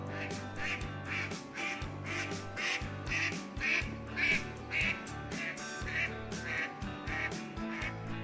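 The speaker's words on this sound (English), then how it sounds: "It was a duck." A duck quacking repeatedly in a steady, evenly spaced series of nasal calls over soft background music.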